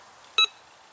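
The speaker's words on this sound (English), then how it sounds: "So I'm getting a little bit of a beep around 8 and 9 inches." Bounty Hunter Lone Star metal detector gives a single short, sharp electronic beep while swept over a nail, faint hiss before and after and no talking.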